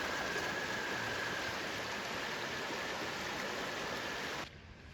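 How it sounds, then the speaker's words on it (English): A small tributary stream pours through a pipe into the White River beside the Larkin covered bridge in Tunbridge, Vermont, a steady broadband rush of flowing water that cuts off near the end. "Nice little tributary flowing through that pipe"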